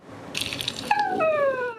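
A dog gives a short played-back vocalization just before being fed, a brief rising whine-like bark that slides into a sustained, falling howl-like tone, heard alone at moderate loudness.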